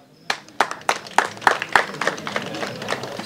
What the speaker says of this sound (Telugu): ఫస్ట్ వాళ్ళందరికీ క్లాప్స్ అండి.